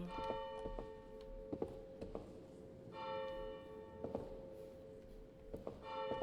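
Church bells ring in the horror video game The Unholy Priest, sounding a few resonant strikes spaced a second or so apart, fairly faint over a low, steady background hum.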